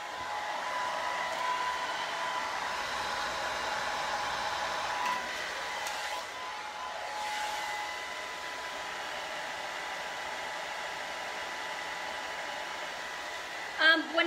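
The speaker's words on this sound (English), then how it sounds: "I am going to post all the information on the blow dryer and the diffuser." Blow dryer fitted with a diffuser drying curly hair, a steady close whooshing hum that runs the whole time with faint shifts in pitch.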